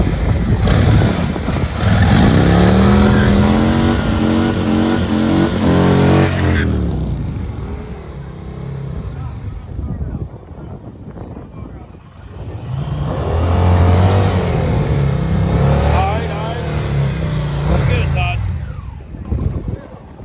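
A Harley-Davidson Road Glide and an Indian Challenger rev and accelerate in a drag race, with two loud bursts of rising engine roar separated by a quieter lull and people talking around them.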